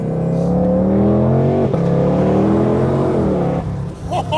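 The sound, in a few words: 2022 Ford Mustang GT500 760 horsepower engine accelerating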